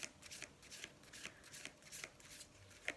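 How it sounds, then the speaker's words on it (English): Tarot cards handled and laid down for a five-card reading: soft papery slaps and shuffling snaps repeating every half second or so, close and quiet, with no speech. "I'll be putting down a 5-card spread for you"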